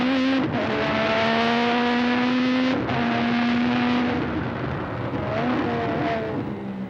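A Formula 1 car accelerates hard uphill at Imola from the Tosa hairpin toward Piratella, caught from an onboard camera: a loud, close engine wail climbing through rising pitch sweeps with quick gear-change breaks, alone without talk.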